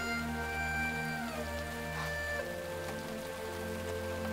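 Heavy rain pours steadily and loudly throughout, a dense continuous roar with no voices, alongside a sustained tonal drone and some low rumble.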